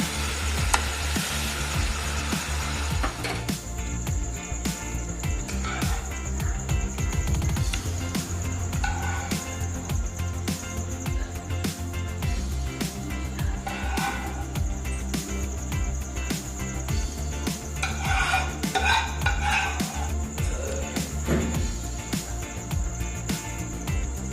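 A spoon stirs stingray fish curry with garam masala in a pan, giving a few scattered scraping strokes over a steady, close sizzle and a constant high whine, with no talking.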